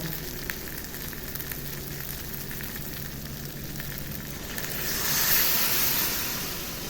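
Water hits a hot pan of fried rice for fish pulao, giving a steady close sizzle that swells into a louder hissing rush toward the end.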